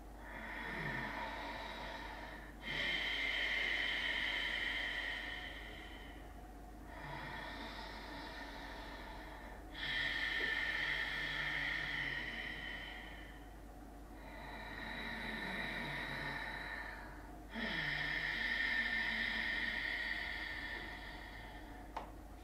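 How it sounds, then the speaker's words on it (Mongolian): Slow ujjayi throat breathing in a yoga session, with long hissing inhales and exhales in a steady rhythm of about four-second cycles, close and moderately loud, with no talking. "За ужаа амьсгал маань хоолой амьсгал байгаа тийм ээ. За одоо би амьсгалж үзүүлнэ."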